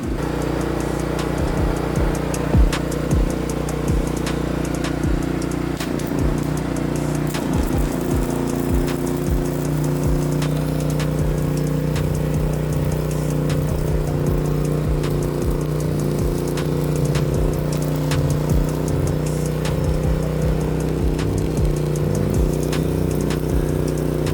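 A Philking PK4200ie2r generator runs steadily with a continuous droning engine hum and faint ticking, close and loud, holding an even level throughout with no talk.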